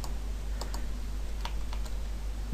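A few faint, sharp clicks from a computer mouse while activating Kaspersky antivirus with key files, sitting over a steady low electrical hum.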